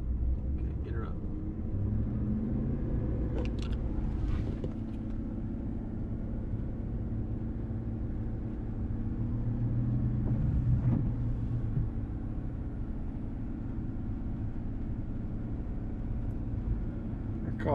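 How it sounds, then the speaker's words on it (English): Ford F-150 and GMC 1500 pickup trucks sit stationary with an engine held at 2000 RPM, a steady low rumble throughout while people talk over it nearby. "let's do a 2000 RPM stationary test. So get her up to 2000 RPM."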